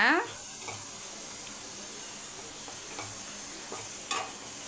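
Sautéed masala mixture for prawn and drumstick curry being stirred in a pan, a steady soft sizzle with a few scraping spoon strokes, fairly quiet and without talk.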